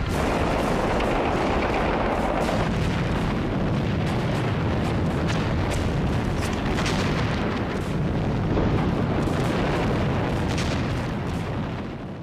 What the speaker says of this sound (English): Then a hurricane of Japanese fire swept over them.